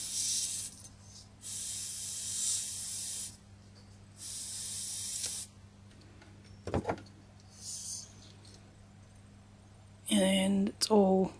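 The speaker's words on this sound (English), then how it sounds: "You can just spray directly onto it." Copic airbrush blowing Ciao marker ink onto paper gives several bursts of airy hissing spray, each a second or two long, separated by quiet gaps with faint clicks and handling noise.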